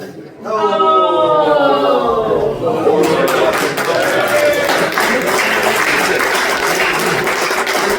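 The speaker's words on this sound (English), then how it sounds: "They were cheering that the pot lives another day." A meeting audience bursts into loud, sustained applause and cheering, with a rising swell of voices at the start and dense clapping filling the rest of the stretch.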